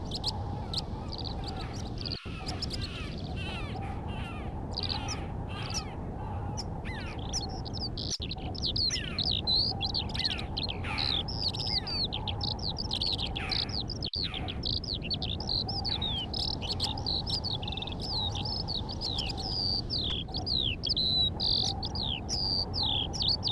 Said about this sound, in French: Le torcol fourmilier.